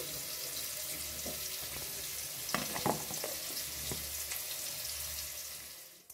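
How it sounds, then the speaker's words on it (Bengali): Cubed potatoes frying in hot oil, browning for a vegetarian fig curry, give a steady close hiss with a few brief clinks and stirring noises midway before the sizzle fades at the end. "তেল গরম হয়ে গেছে, আর টুকরো করে আগে থেকে কেটে রাখা আলুগুলোকে ভেজে নিচ্ছি একটু লাল লাল করে"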